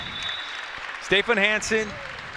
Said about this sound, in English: And the crowd erupts as Stefan Hansen,